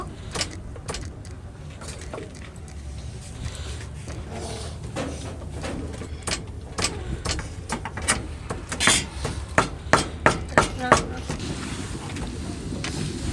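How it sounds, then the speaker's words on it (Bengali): A knife chopping green beans in a home kitchen while preparing fried rice: sharp irregular taps on a cutting board that quicken into a tight cluster of strokes near the end, over low background noise. "আমার মেয়ে কেটেছে তো অল্প কেটেছে, আমি আর একটু কেটে নিচ্ছি"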